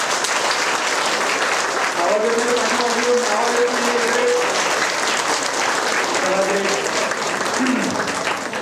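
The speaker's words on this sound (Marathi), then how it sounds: "जेवढ्या जोरात टाळ्या वाजवत येतील तेवढ्या जोरात टाळ्या वाजवायच्या आहेत" Audience at an event clapping loudly all together on a count of three, a continuous dense round of applause with a few voices calling out over it.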